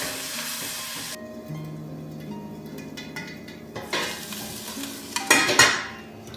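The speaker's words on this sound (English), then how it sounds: "here I'm just putting it in my kettle, going to heat it and then add some onions" Browned hamburger meat is heated in a kettle, with a soft sizzle, stirring, and a few scrapes and clinks of a utensil against the pot, close by and with no talk.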